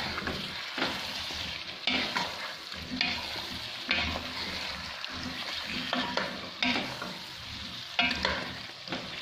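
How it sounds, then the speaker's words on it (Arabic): Potatoes fry with spices in a pan, a continuous close sizzle broken by repeated scraping and stirring strokes, with no talking. "نخلي البطاطا تقلى هكذا شويه مع التوابل"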